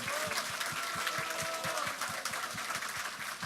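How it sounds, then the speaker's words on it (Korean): A crowd claps at the opening ceremony of an election campaign office, a continuous broadband patter with soft, regular low thumps underneath, moderately distant and steady. "이 자리에 오신 특별한 분들을 위해서 박수 한번 크게 보내주시고요."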